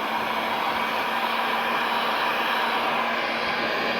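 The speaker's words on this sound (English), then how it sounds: "I'm going to take this heat gun that I use on that PVC conduit" A heat gun blows a steady, loud, even hiss of hot air with a faint constant hum while warming stiff PVC conduit, with no talk.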